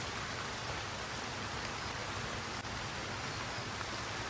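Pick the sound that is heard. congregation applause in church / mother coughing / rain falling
rain falling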